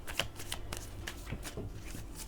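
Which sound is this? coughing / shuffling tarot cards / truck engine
shuffling tarot cards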